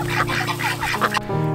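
Ducks on a homestead quack and honk in a busy, overlapping chorus close by, a steady run of nasal calls with no talking.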